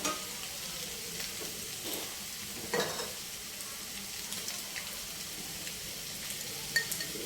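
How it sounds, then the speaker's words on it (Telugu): Eggs fry in a pan for a Telugu egg curry, giving a quiet, steady sizzle. Now and then a soft clink or scrape of stirring sounds from nearby. "ఈ గుడ్లు కొంచెం వేగాలండి."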